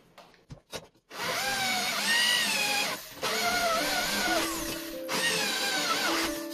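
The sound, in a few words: drilling holes with a power drill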